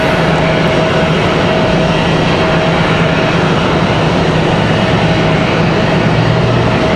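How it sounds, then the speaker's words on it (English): Airbus A319 jets at Raleigh-Durham International Airport give a steady, loud, broadband engine roar that holds without a break, with a low hum underneath and no talking. "Again, a couple of A319s here."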